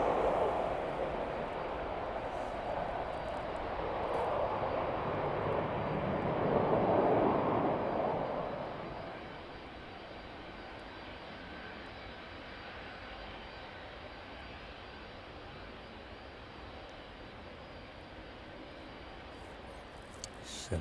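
A Ryanair airliner taxis out toward runway 09 at East Midlands Airport, its steady engine roar heard from a distance, swelling briefly before settling into a constant, moderate hum.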